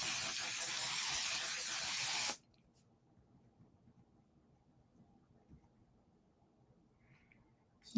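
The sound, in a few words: face mist spray being sprayed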